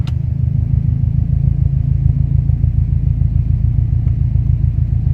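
A 1991 Toyota MR2 Turbo engine runs at a steady, close, low rumble, with the revs creeping up slightly and no voices over it.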